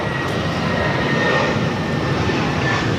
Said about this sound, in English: This is Spirit Airlines 901 taking off to Pittsburgh on the A320.